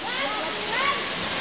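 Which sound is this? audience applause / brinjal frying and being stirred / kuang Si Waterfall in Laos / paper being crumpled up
kuang Si Waterfall in Laos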